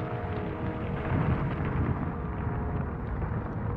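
Rumbling thunder after lightning hits a rocket launch pad during storms over Florida, a heavy, sustained low roar that swells and rolls without break for several seconds.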